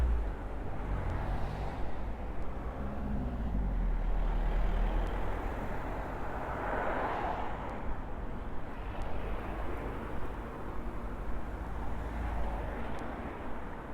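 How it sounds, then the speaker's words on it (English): Steady road traffic with trucks and cars passing along a busy street in Weymouth, a continuous loud rumble with swelling vehicle passes and no talk. "this traffic is intense sometimes"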